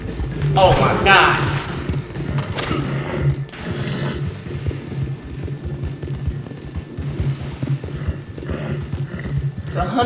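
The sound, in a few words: horse galloping hooves in video game Red Dead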